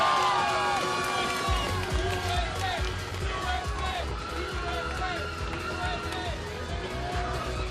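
A crowd cheers and chants rhythmically along the Chicago lakefront at a supertri League triathlon, a steady pulsing roar under loud commentary that continues throughout.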